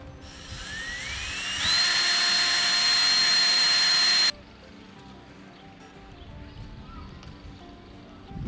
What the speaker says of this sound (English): This was the first time I was drilling holes in our Airstream.